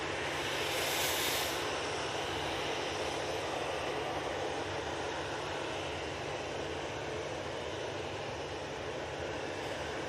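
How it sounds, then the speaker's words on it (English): Jet2 Boeing 737 taking off at Manchester Airport, a broad steady engine roar held at moderate distance for the whole stretch, with no voices over it. "next out should be this Jet2 737 off to the"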